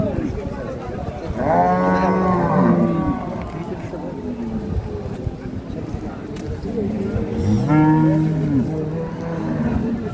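Two drawn-out moos from a dairy cow, a few seconds apart, over a busy background of murmuring voices and crowd noise at a cattle market in Ambari, Dinajpur.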